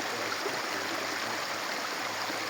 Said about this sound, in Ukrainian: Ось такий струмочок, друзі, красивий, дивіться, який фонтанчик.